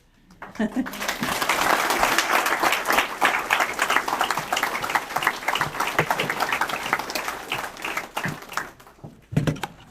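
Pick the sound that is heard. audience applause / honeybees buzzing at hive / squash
audience applause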